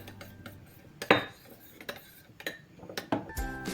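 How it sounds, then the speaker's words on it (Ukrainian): Utensils clink and scrape in a bowl as eggplant salad is mixed with a splash of vinegar, a few sharp knocks standing out among softer stirring scrapes, close and fairly quiet. "все разом перемішую."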